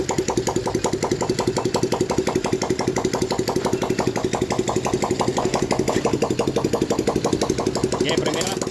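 A Honda Wave 100 motorcycle engine runs close by with a steady, rapid putter that holds throughout, shifting slightly near the end.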